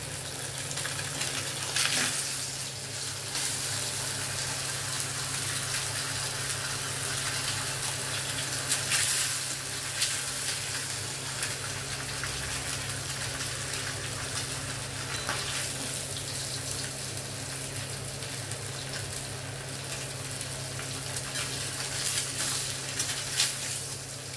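Rui fish pieces frying in oil in a pan, a continuous close sizzle with a steady hum underneath, holding an even level throughout with occasional small crackles and clinks.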